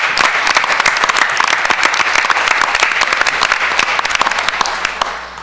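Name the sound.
board meeting audience applause for educators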